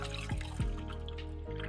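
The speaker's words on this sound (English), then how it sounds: "in the empty can, fill it up with milk" Milk poured from an emptied soup can into a pot while cooking dinner, a brief liquid glug and trickle heard close up over a steady low kitchen hum, with two short splashy bursts.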